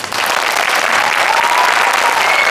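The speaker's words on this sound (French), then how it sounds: "Alors quoi de mieux que pour leur donner de la force que d'applaudir bien fort" Loud, dense applause from a theatre audience at a staged reading performance, a continuous roar of many hands clapping close by with no voices over it.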